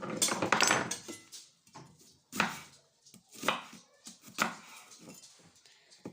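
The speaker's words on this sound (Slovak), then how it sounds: "Potom si nakrájame cibulu." Knife chopping onion on a board in a home kitchen, heard as several loud, irregular cutting strikes close by, with pauses between bursts and no talk over them.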